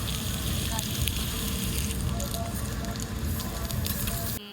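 Food grilling over an open fire, a dense, loud crackle and hiss with popping spatter, continuous and close-up, with some faint voices in the background.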